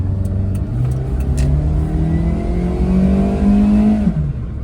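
A Daihatsu Move with a 3-speed automatic accelerates on a city street, its small engine rising in pitch through a gear change, then climbing again loudly and close up.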